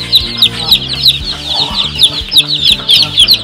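A flock of Rhode Island Red chickens clucking and chirping close by, a busy continuous chatter of overlapping peeps and clucks.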